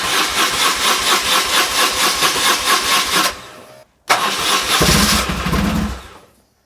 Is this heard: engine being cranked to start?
yes